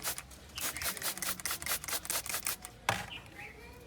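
A hand spray bottle mists shampoo water onto a car AC blower in a rapid run of short, hissing bursts, followed by one sharper spray and a quieter tail.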